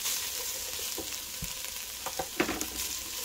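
Chopped onion sizzles in a hot pan with a bright, constant crackle, broken by a few soft scraping stirs near the middle.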